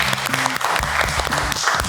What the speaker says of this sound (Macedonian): Аплауз за мова.